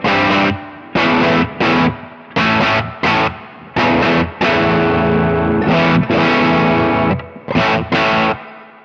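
Heavily distorted electric guitar through an effects pedalboard, A- and C-shape chords strummed in choppy bursts with short gaps, then a longer sustained chord, loud and close.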